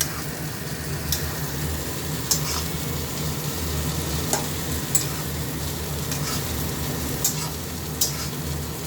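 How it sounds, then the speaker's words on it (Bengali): Potato and greens curry being stirred in a pan over low heat, a soft continuous sizzle broken by regular scraping clicks of the spoon, about one each second. "আবার করে নেড়ে দিতে হবে, জিনিসটা নিচেরটা উপরে, উপরেরটা নিচে"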